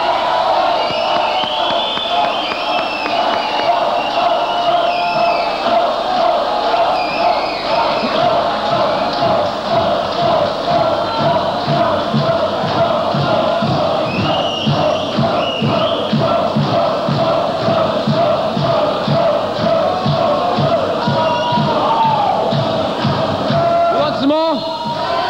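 A live audience at a concert in Bristol in 1984 cheers and claps loudly and continuously, a dense crowd roar with rhythmic clapping and shouts, while a voice speaks over it.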